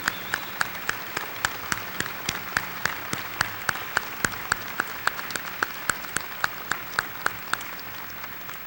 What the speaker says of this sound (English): Let the students give you a round of applause.